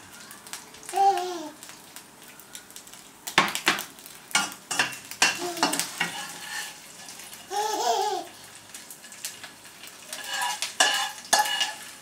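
Smoked bacon fries in a pan with a low sizzle, while stirring clatters and scrapes come at an uneven pace and a child babbles and laughs nearby.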